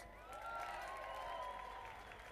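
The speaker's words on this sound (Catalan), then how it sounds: "M'agradaria que donéssim un fort aplaudiment als Mortimers" Crowd at the close of a Catalan school rally giving a big hand to a performing group, a soft, far-off wash of clapping with some cheering and sustained tonal sounds drifting over it.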